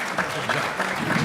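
Audience applause at a panel session, steady clapping with a murmur of voices mixed in, short and continuous.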